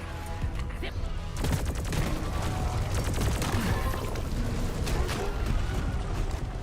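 Gunfire in the Deep Rock Galactic video game: dense automatic bursts and rattling shots keep up almost without a break, loud and close in a busy firefight with clanking mechanisms.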